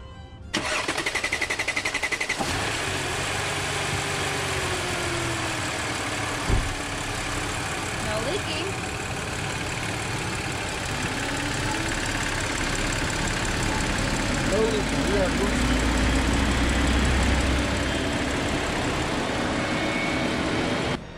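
A 2014 Audi Q7 supercharged engine cranks and fires up, then settles into a loud, steady idle heard up close.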